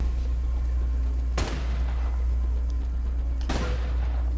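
Two loud gunshots from the Spatial Ops game on Vision Pro, spaced about two seconds apart over a steady low hum.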